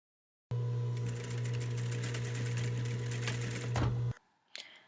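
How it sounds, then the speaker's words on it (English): A sewing machine stitches straps onto the back of a lace bralette, running in one steady, close, continuous whir for about four seconds, then stopping, with a faint brief click afterward. "now I'm just sewing the straps to the back"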